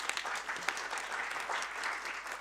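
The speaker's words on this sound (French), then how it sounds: "vous pouvez d'ailleurs l'applaudir, ça lui fera du bien" Conference audience applauding a speaker after a talk on health democracy, a steady wash of many hands clapping throughout, moderately loud with no voices over it.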